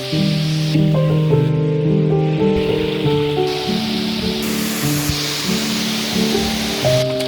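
Rushing water at Napittachora waterfall on the Mirsarai trail, a steady broadband roar lasting throughout, with melodic tones layered on top.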